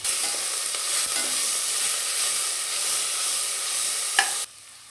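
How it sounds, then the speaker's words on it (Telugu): Green paste of coriander, mint, ginger and green chilli stirred into a hot pan, giving a steady close sizzle and frying hiss with light stirring scrapes, cutting off sharply near the end. "కొత్తిమీర, పుదీనా, అల్లం, పచ్చిమిర్చి పేస్ట్ ఇప్పుడు వేసుకొని కలుపుకోవాలి."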